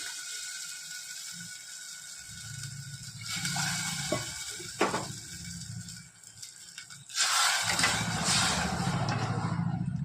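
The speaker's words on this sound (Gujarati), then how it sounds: "આપણે એમાં 2 વાટકી પાણી નાખીશું।" Two bowls of water are poured into a pressure cooker of mixed dal in a couple of bursts, a rushing splash against a low background hum.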